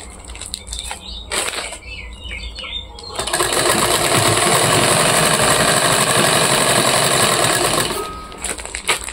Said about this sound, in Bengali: সেলাই করবো।